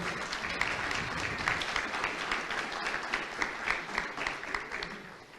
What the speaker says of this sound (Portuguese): Uma salva de palmas para Edson Ferreira.